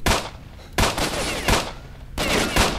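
Gunfire in the shooter game S.T.A.L.K.E.R.: Shadow of Chernobyl, loud bursts of shots in several clusters with brief gaps, close and sharp, with no talk over them.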